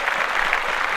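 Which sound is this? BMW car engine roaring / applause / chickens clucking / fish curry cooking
applause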